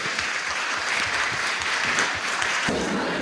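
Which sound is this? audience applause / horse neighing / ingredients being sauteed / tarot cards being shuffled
audience applause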